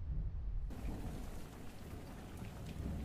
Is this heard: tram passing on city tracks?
no